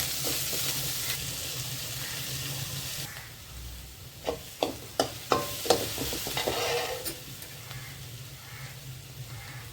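Onion and green chilli sauté in hot oil in a pan, giving a steady sizzle broken by several sharp scraping stirs from a spoon near the middle, with no talking.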